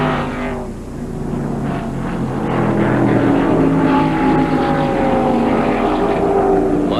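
Stock cars roar past at Darlington Raceway during the 1994 Southern 500, a continuous loud engine drone with rising and falling pitch as the leaders go by, no voices over it.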